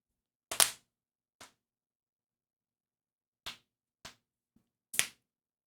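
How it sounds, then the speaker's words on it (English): Five sharp finger snaps spaced irregularly with silence between them, crisp and close, the first and last loudest. "Snapping my fingers."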